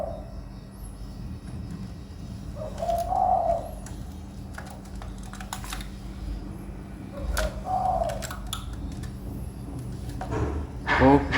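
A spotted dove coos in short repeated phrases, soft and mid-distance, separated by pauses, with faint clicks and background hum.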